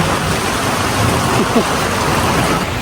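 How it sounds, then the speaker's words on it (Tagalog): Loud, continuous rain drums on the roof of a farm rest house, a dense roar that holds steady throughout with a few faint voices underneath. "nabot kami ng lakas ng ulan dito sa rest house"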